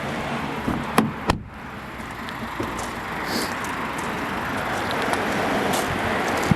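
A Skoda Octavia SE 1.4 TSI car door slams shut with a sharp, close thud after a couple of lighter knocks, followed by quiet ambient hiss.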